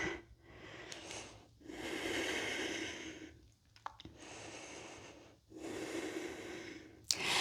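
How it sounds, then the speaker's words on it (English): Deep yoga breathing during a vinyasa flow practice, slow, audible inhales and exhales through the nose and mouth in long, breathy swells separated by short pauses, close and clear. "Keep breathing as deeply as you can."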